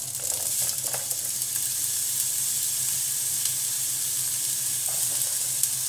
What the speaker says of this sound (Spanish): Vamos a sofreír la cebolla y el ajo bien ahora.